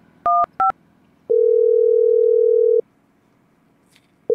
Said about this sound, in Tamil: ஃபோன் பண்ணி பேசிடுவோம்